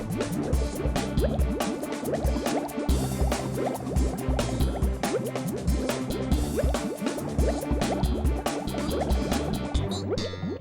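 Someone splashing and thrashing in water in a cartoon scene, with continuous wet splashes, drips and sloshing, loud and close throughout.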